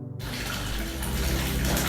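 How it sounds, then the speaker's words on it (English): Water gushes from a faucet into a bathtub, starting suddenly and then running as a full, steady splashing stream close by, with no voices. "Water pours from the faucet and splashes in the tub."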